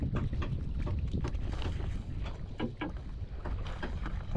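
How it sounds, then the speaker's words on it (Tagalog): A boat travels off across open water near Siargao, its steady engine drone and water wash held at an even level throughout, with wind buffeting the microphone. "nalayo ng bangka"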